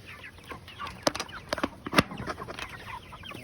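Chickens cluck close by in short, scattered bursts, with a few sharper squawks and some rustling in between.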